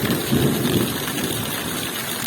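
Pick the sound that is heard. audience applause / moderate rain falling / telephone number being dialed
moderate rain falling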